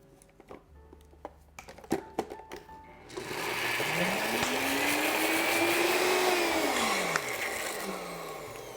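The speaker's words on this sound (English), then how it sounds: "I'm just gonna use my NutriBullet here" A NutriBullet blender grinds rolled oats into flour, starting after a few clicks and taps with a loud steady whirring motor whose pitch rises then dips near the end, heard close in a kitchen.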